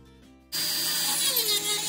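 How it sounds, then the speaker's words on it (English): A Dremel rotary tool drills through wooden slats layered with scrapbook paper, a steady high whine starting abruptly after a brief quiet lead-in and holding loud and close to the end. "Used a Dremel to go ahead and drill through both pieces at once"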